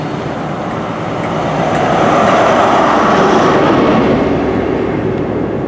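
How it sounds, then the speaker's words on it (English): CrossCountry Class 43 HST train passing Wareham station, a loud, close, sustained rumble and rush of wheels and engine that swells and holds steady, with no talking. "that was lovely to see that CrossCountry Class 43 HST at Wareham"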